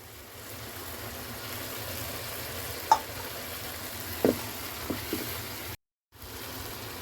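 Green chilies frying in hot oil while cooking aloo chicken, a steady faint sizzle with a few soft clicks and stirring taps, briefly dropping out before resuming, no voices.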